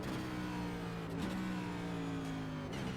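NASCAR Gen 7 race car engine at full throttle on a virtual lap at Pocono, a loud steady high-revving drone with brief pitch dips at shifts or corners, heard close from inside the car.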